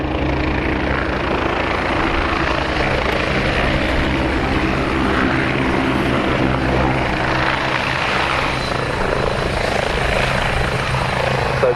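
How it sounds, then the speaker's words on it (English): A Leonardo Wildcat helicopter of the Royal Navy's Black Cats display team flies nearby at an airshow, its steady rotor thump and engine whine droning continuously at a fairly loud level without pause. "the Royal Navy helicopter display team in solo form, the Black Cats with the Leonardo Wildcat"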